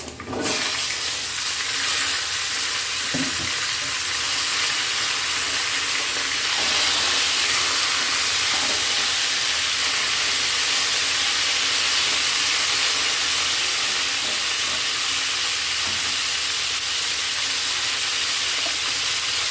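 Cauliflower frying in a pan for a spiced carrot and cauliflower dish, giving a steady, loud, even sizzle and hiss that continues unbroken for the whole stretch after a sharp start.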